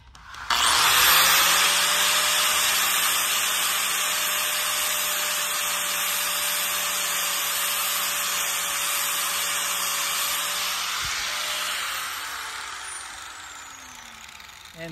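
Bench grinder wheel blunting the hardened jaws of a 10-inch end nipper clamped in a vise, a steady loud continuous grind with a high whine held for about eleven seconds before spinning down.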